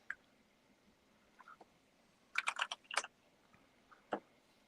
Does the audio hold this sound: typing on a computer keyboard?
yes